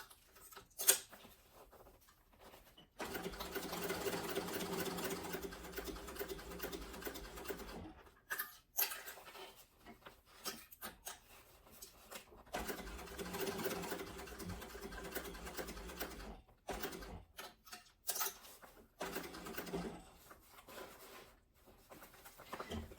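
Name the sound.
sewing machine stitching gusset and panel of sling bag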